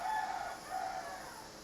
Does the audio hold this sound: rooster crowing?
yes